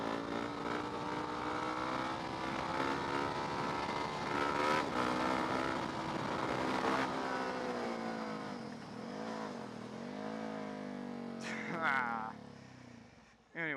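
A motorcycle engine drones steadily, then swells and warbles as the rider revs through a wheelie, with voices talking over the engine noise.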